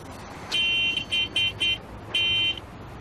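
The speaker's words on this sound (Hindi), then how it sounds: "ये हॉर्न, इसको भी यहीं बजाना है" A car horn honks in a row of short beeps, then one longer beep, fairly faint against steady background noise.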